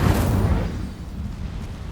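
An Incendio fire spell blast in Hogwarts Legacy, a loud, close boom that erupts at once and then fades into a low, rumbling roar of flame.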